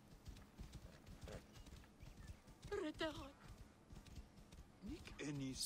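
Steady clip-clopping of horse hooves in Assassin's Creed runs throughout, with a couple of short whinnies and game-like tones near the end, and a voice talking over it.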